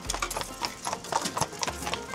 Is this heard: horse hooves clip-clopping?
yes